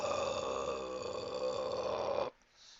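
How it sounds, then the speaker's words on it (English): A single loud, sustained burp roars out for more than two seconds, harsh and rumbling, then cuts off abruptly into near silence. "Charlie's burp roared through the air."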